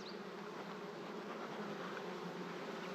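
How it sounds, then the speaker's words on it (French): Honeybees inside an opened hive during queen rearing make a steady, dense buzzing hum that continues without a break throughout, nearby and without speech. "Regardez, il y a pas mal d'abeilles dedans."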